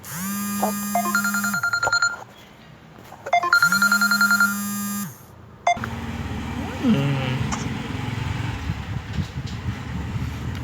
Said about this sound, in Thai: โทรศัพท์เข้า เดี๋ยวเดี๋ยวเดี๋ยวใครก็ไม่รู้